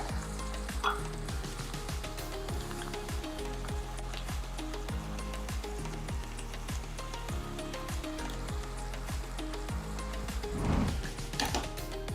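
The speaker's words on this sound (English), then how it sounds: "We'll just let the mince to simmer for 2 minutes." Mince simmers and sizzles steadily in a pan for bolognese, a continuous bubbling fry broken by frequent scraping stirs and a louder clatter near the end, with no voices.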